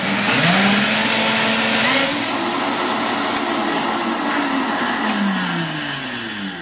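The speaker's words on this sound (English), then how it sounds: "we're going to mix it up in the blender" A blender whirs loudly and continuously while mixing raw chocolate pudding, its motor pitch wavering up and down as the thick mixture churns.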